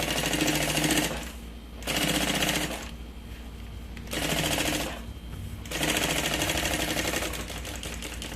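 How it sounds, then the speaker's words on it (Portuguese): Electric sewing machine stitching around the edge of a lining on a large changing bag, in four loud bursts of rapid needle chatter separated by short pauses. "E fazer uma costurinha bem na beiradinha, em volta todinho"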